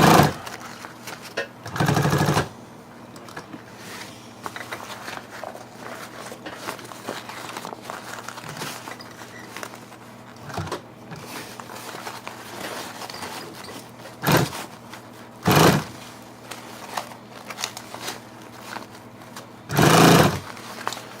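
A sewing machine stitches vinyl with a close, continuous motor hum. Brief louder bursts and crinkling handling noises break in at intervals as the material is fed and turned.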